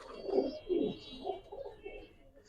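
A strong pigeon offered for sale in Mirpur, Dhaka, coos in a few low, rounded bursts, fairly faint and close, with no voices.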